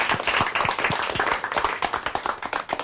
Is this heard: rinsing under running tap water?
no